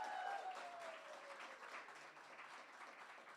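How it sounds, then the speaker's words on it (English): Faint applause from an audience at a dedication event for a portrait exhibition on mass incarceration, a steady wash of clapping that fades slightly toward the end, with no talk. "Can we have a round of applause, please?"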